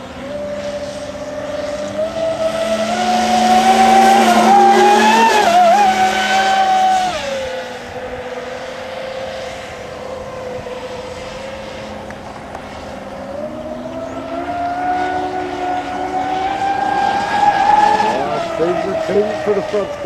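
An Expresscraft Thunderbolt twin-electric RC boat on a 6S 2P battery pack runs at full throttle, its loud, close, high whine rising and falling in pitch as it passes and turns, steady throughout with occasional voices underneath.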